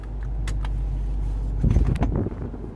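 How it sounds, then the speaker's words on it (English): A car engine idles with a steady low rumble in the Mojave Desert, joined near the end by close rattling and clunking handling noises. "I'm gonna leave the car running."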